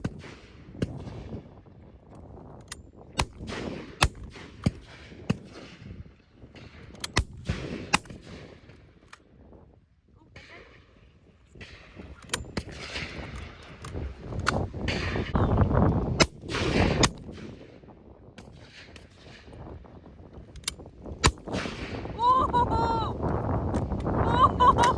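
Shotguns fire at a partridge shoot on Exmoor, a scatter of sharp, distant cracks spread across the clip amid wind buffeting and people talking.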